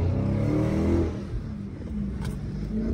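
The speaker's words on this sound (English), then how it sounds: "We are out in the car." A Dodge Charger SRT 392 accelerates from inside the car, its V8 rising in pitch and then easing off into a steady cruising rumble, with a short click partway through.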